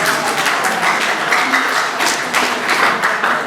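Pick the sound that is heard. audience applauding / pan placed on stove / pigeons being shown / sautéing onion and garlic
audience applauding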